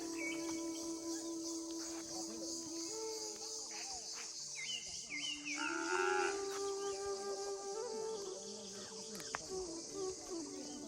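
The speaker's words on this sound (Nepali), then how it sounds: "गोरु कराउँदैछ तल" A cow moos from below a hillside home in a rural setting, a low drawn-out call heard faintly amid insect and bird sounds.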